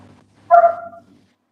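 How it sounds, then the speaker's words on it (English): A dog gives a single sharp bark with a short trailing tail, loud and close, standing alone against a quiet background. "And the dog just barked."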